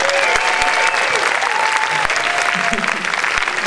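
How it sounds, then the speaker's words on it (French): An audience applauds steadily at a talk, a dense, even patter of many hands lasting several seconds, with scattered thumps and faint voices underneath. "je voudrais surtout que vous applaudissiez"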